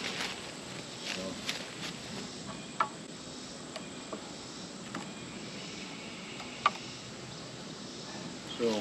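Bees crawl over hive comb in a beetle-infested hive, a soft continuous buzz close by with occasional clicks and rustles, no voices.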